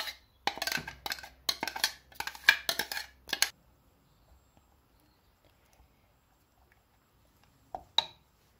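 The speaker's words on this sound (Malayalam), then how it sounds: "നമുക്കിതിലേക്ക് അരപ്പ് ചേർത്ത് കൊടുത്തിട്ട് ഒരു നന്നായിട്ട് മിക്സ് ചെയ്ത്" Metal spoon scraping and knocking against a pan while coconut paste is stirred into pineapple pachadi, a quick run of clinks and scrapes for a few seconds, then near silence and two brief taps at the end.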